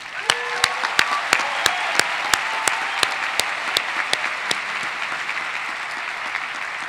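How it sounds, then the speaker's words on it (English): Steady applause from a large audience at the 2018 Claremont McKenna College commencement ceremony, given for the MA class. Dense crowd clapping has sharp individual claps popping out near the front, and it continues evenly throughout. "we welcome your applause for the MA class of"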